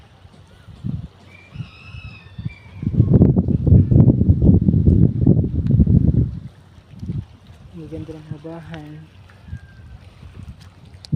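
Gusty wind at a beach buffets the microphone in loud low rumbling bursts, with a person speaking briefly near the end.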